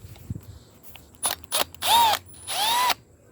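A Milwaukee drill runs in hammer mode in two sustained bursts after a couple of short blips, loud and close with a steady whine, no talking.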